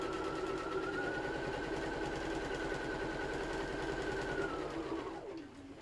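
A sewing machine runs steadily while top stitching close to a fabric edge, a loud continuous mechanical whir with rapid needle clatter that winds down and stops at the end.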